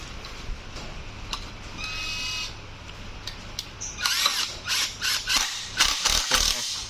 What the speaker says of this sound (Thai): ยิงน็อตเลยครับ